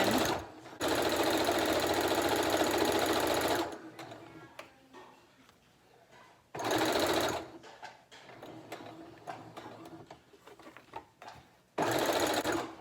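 Sewing machine stitching a fabric square in bursts: a long steady run at the start, a shorter one mid-way and a brief start at the end, with quiet handling sounds in between.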